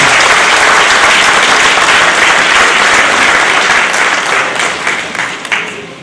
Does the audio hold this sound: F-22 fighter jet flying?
no